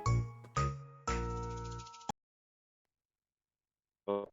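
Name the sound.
phone call ringing tone while dialing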